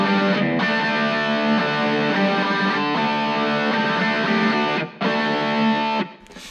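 Electric guitar plays sustained, distorted chords with a slight chorus effect that thickens the tone, loud and continuous with short breaks before a final cutoff, with no voices.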